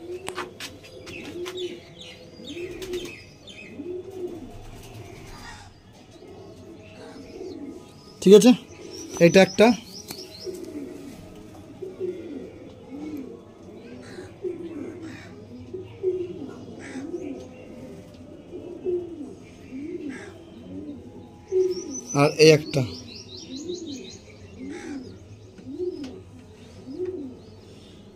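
Run pigeons of the Lambari type coo steadily nearby in a long run of rhythmic phrases, while someone speaks briefly and a few sharp handling noises break in.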